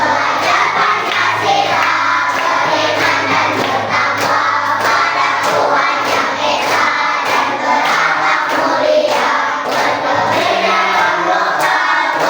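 A fourth-grade class performs a rhythmic clapping chant (tepuk), with many voices chanting together over steady, loud group claps that carry an even, patterned beat throughout.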